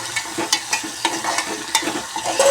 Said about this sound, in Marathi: बघू शकता आपण कसं याला शिजवून घेत आहे चांगलं फ्राय होऊ द्या